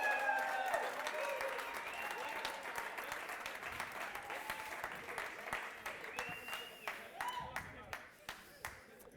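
A TEDx conference audience claps in a sustained round of applause, dense at first and gradually thinning into scattered individual claps toward the end.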